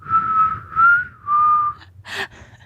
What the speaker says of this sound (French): Je sais pas comment siffler, je pourrais même pas faire son personnage.